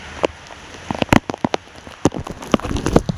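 Heavy rain pours down steadily, with a dense hiss of drops and sharp splatters striking a hard surface up close and loud, with no talking.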